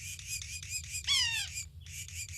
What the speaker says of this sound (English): Characteristic squawk that goes along.